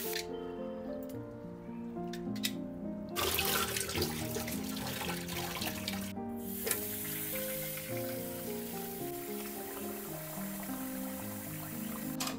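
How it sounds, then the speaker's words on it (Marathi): Soaked urad dal being rinsed by hand in water in a home kitchen, with continuous splashing and swishing, a louder burst of pouring water partway through, close and without talk. "ही सुद्धा एकदा जरा अशी पाण्यातनं काढून घ्यायची"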